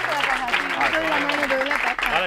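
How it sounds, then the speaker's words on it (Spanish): A studio audience claps for documentary creators, a steady burst of applause mixed with cheering voices, heard close and fairly loud over its short length. "Un fuerte aplauso para ellos."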